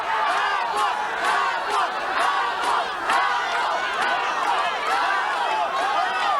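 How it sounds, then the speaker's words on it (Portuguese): A packed arena crowd at a televised boxing match in Brazil shouts and cheers continuously, with rising and falling chant-like yells layered into a loud, dense roar that never drops away. "E durante todo o combate, se ouvia o grito da torcida."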